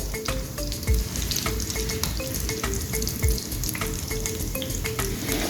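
Egg devil, a crumb-coated Bengali egg chop, fries in hot oil in a pan; a dense, steady sizzle with crackles throughout and a couple of soft knocks, close and alone without talk.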